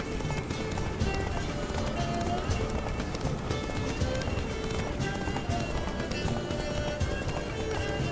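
Steady galloping hoofbeats of a horse in The Witcher 3: Wild Hunt pound throughout, loud and continuous, with a faint voice briefly under the rhythm.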